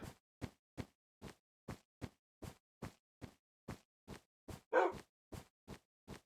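A video game dog barks repeatedly in an even, rhythmic series of short, sharp woofs, one slightly louder bark near the end, with silence between.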